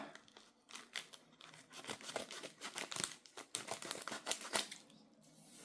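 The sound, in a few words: cutting open packaging with scissors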